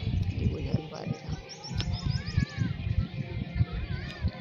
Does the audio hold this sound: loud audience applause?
no